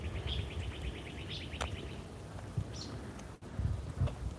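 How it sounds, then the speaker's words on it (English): Faint bird chirps and tweets in the distance outdoors, with a light background hiss and a few soft bumps. "Yeah, you can hear all the birds and stuff."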